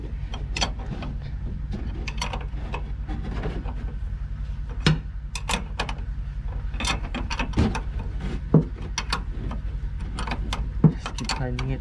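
A rear shock bolt on a 2007 Toyota Tacoma is tightened with a ratchet, giving quick, close clicking strokes and occasional metallic clanks over a low background hum.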